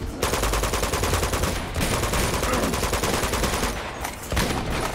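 A heavy gunner weapon fires continuously in Uncharted 2, a loud, dense stream of rapid shots with a couple of brief breaks between bursts.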